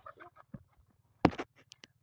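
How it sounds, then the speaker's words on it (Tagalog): A chicken lets out a sudden loud squawk followed by a few short clucks, close by, over a low steady hum. "Manok lang yan guys."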